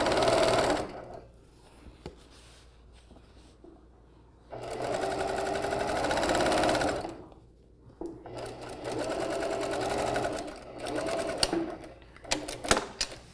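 A sewing machine stitches a shirt yoke seam in bursts, running steadily for a few seconds, pausing, then starting again, close and fairly loud, with brief quiet gaps between runs.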